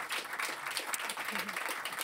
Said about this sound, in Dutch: Warm applaus voor de Anarcho Feministische Groep Amsterdam.